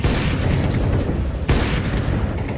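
Rapid gunfire fills a Counter-Strike 2 esports playoff match between Navi and G2, with dense, continuous shots and booms packed into a loud, busy mix; no clear talk is heard.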